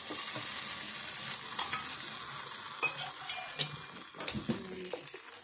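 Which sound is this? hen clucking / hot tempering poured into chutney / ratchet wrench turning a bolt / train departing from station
hot tempering poured into chutney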